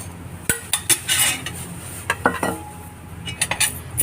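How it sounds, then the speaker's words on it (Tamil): Cashews and chana dal being dry roasted in a pan for tamarind rice powder, with a spoon scraping and clinking against the metal in irregular close knocks and rattles, no talk. "முந்திரி பருப்பு, கடலைப்பருப்பு கொஞ்சம் நல்ல செவக்கமாக நம்ம இது பண்ணிக்கிறோம், வறுத்துக்கிடுவோம்."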